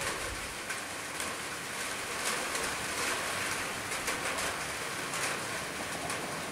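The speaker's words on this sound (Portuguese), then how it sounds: "Estamos no domingo com chuva" Sunday rain in Conselheiro Lafaiete, Minas Gerais, Brazil makes a constant broadband hiss with faint scattered drop patter. It stays steady and moderately loud throughout with no talking.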